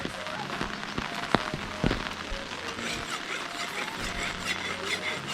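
Steady heavy monsoon rain in Uttarakhand patters densely on surfaces nearby, with occasional louder drops and taps standing out from the constant hiss.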